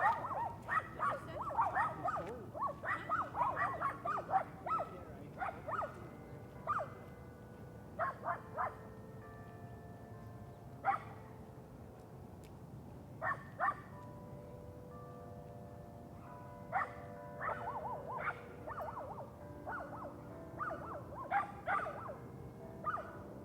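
Several dogs bark, yip and whimper during a walk outdoors, with bursts of barking coming in irregular clusters at close to moderate distance, mixed with scattered short yelps and quieter pauses.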